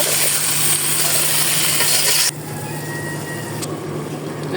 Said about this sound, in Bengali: আমি তরকারিটাকে একটু ঢাকনা খুলে লেড়ে দিব আর একটু কষিয়ে নিব।